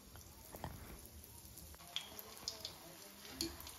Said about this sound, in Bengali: আর এখানে আমি তেল গরম করে নিয়েছি, এবার আমি এক হাতার মতো ব্যাটারটি দিয়ে দেব।